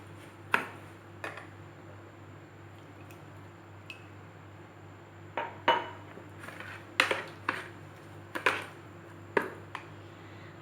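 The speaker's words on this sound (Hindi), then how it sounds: "हमने यहाँ पर सूजी में छाछ मिला ली है।" Semolina being mixed with buttermilk in a bowl for dhokla batter, heard as a scattering of sharp clinks and wet squishes of a spoon against the bowl, close and fairly quiet over a steady low background hum.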